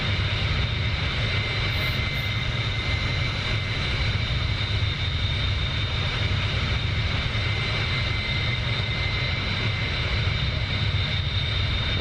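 Bell 47 helicopter engine in the DCS flight simulator, a loud, constant droning roar with a steady mechanical hum and no change in pitch, with no voices.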